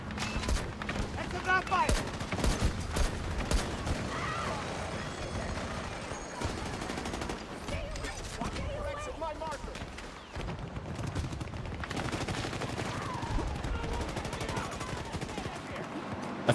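Rapid automatic gunfire in a Battlefield 6 match, with dense bursts and sustained volleys running throughout, loud and close, mixed with battle noise and occasional talk.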